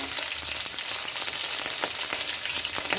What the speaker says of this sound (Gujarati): તેને અમે નાખીશું લીલા મરચાં